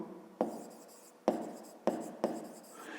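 Pen or marker writing a math equation on a surface, four quick separate strokes, each starting with a sharp tap and trailing off in a soft scratch, close and quiet.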